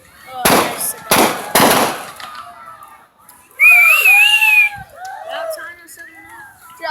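Fourth of July fireworks bursting in three sharp, loud cracks, followed by whistling and screeching rockets and excited shouting voices nearby.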